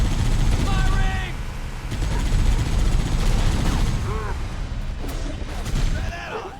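Sustained gunfire and explosions fill a Halo: Combat Evolved Anniversary firefight, loud dense rattling with booms, while voices shout over the battle.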